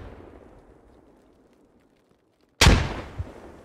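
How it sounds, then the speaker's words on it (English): A grenade explodes in the military shooter game Squad: a sudden loud, close blast after near-silence, with a long rumbling decay and a smaller second burst a moment later. "Grenades coming in."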